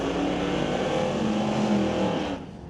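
A 1966 Mercury drag car launches in a big wheel stand, a loud sustained engine roar at the strip that holds steady before dropping away sharply near the end as the car pulls off.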